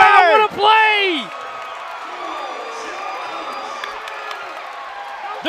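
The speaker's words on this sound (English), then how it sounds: "The crowd goes crazy." Arena crowd at a Montana State vs Northern Colorado NCAA college basketball game erupting in loud cheers and whoops after an above-the-rim lob dunk, with an announcer's voice over the roar, which settles into a sustained crowd din.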